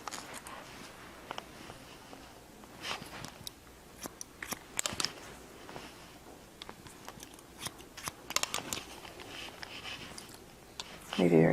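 Bonika hair shears make crisp, intermittent snips while trimming hair to length in a surfer-style haircut, close up under a person talking.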